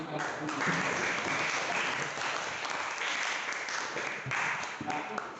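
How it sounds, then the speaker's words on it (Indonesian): A classroom of students gives a round of applause, a dense, even wash of clapping held at a steady level from start to finish, heard from a distance. "kita beri tepuk tangan"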